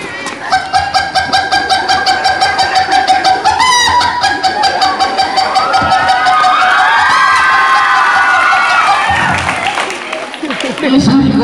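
A comedian's voice imitates an angry hen whose chick was snatched by a kite: loud, sustained squawking and cackling performed on stage, with a crowd cheering and shouting underneath throughout.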